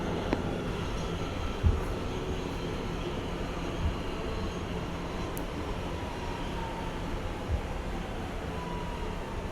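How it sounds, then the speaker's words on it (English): An R211 D subway train runs bound for Manhattan, leaving Tremont Avenue, with a continuous broadband rumble and rail roar, a few faint clicks and squeals, and no voices. "This is a Manhattan-bound D train."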